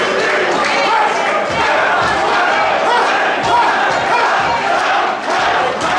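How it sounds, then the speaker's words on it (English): A wrestling crowd gathered around a cinder block ring roars and cheers continuously, a dense, loud wash of voices that holds steady throughout. "Music dies out as the fans cheer him on."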